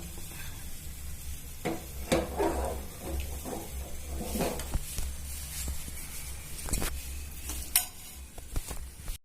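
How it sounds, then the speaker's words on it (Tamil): Cashews frying in ghee until golden, a gentle crackling sizzle with bursts of stirring and spoon scrapes against the pan, fairly close and moderately quiet, with no talking. "முந்திரி நல்லா பொன்னிறமாக வறுபடணும்"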